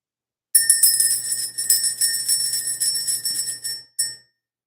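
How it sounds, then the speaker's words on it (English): A bright bell rings with a rapid sustained tinkling for about three seconds, stops, then gives one short final ring, loud and close. "Let's ring the bell."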